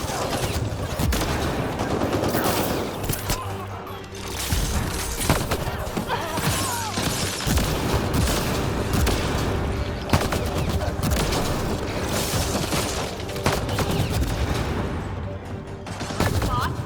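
Rapid gunfire in the Mass Effect Andromeda video game, dense bursts of shots and impacts firing almost without pause, loud and close, with voices speaking in between.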